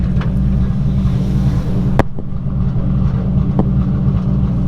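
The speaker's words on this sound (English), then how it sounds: "we'll get on it a little bit just to hear the blow-off valve" A Datsun 280Z with a swapped-in 1JZ engine idles and revs with a steady low rumble, heard from inside, with a sharp puff from the blow-off valve cutting through partway and a fainter one later.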